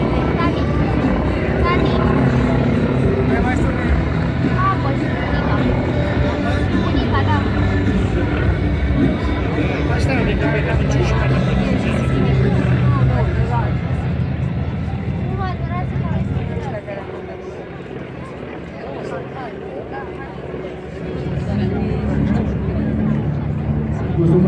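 A 1945 warbird airplane flying at an air show drones loudly and steadily overhead, fading somewhat toward the end before rising again, with crowd murmur and a commentator's voice mixed in.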